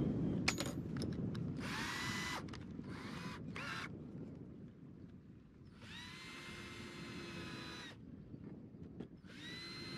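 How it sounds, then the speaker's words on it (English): A small bit in a power drill bores screw holes in a wooden toe rail on a Kingfisher 30 cruiser sailboat, several whining bursts of varying length with pauses between, close over a low background rumble. "or even pre-drill them with a small drill bit"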